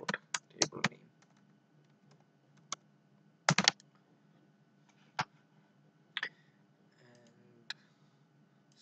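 Typing a database select query on a computer keyboard: scattered key clicks and short bursts of taps, close and fairly quiet, with pauses between strokes and a low steady hum underneath.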